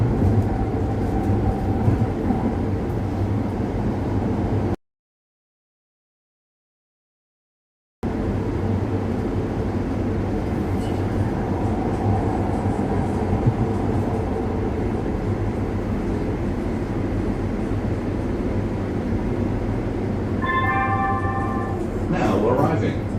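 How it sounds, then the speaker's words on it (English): A Los Angeles Metro E Line train arriving at Westwood/Rancho Park Station, a steady interior rumble and rolling drone with a recorded station announcement spoken over it and rising brake squeals near the end. "Now arriving. Westwood Rancho Park Station."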